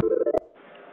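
A telephone dials with a quick series of short electronic tones. A click follows, then a softer steady tone, all within a second and with no speech.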